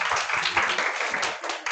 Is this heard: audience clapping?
yes